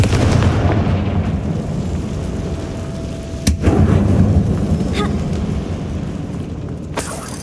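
A Confringo spell blast in Hogwarts Legacy, sharp explosive cracks booming over a dense rumbling game background, with a couple of distinct loud hits and a fainter one between.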